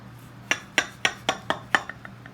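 A corn pie, still hot, being cut in its dish, giving a run of about eight sharp clinks and taps of utensil against the dish, evenly spaced and fading slightly toward the end.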